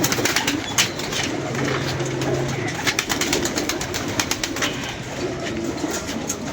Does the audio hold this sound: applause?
no